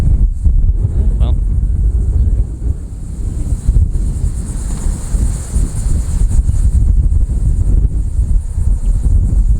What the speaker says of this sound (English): Sorry about the wind, guys. It's windy.